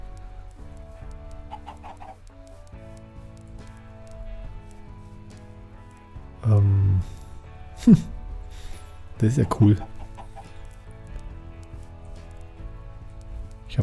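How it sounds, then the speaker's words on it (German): Two Minecraft chickens cluck in a few short bursts over steady, tonal game background sound, while someone talks near the start and again in the middle. "Ich habe zwei Hühner hier am Start."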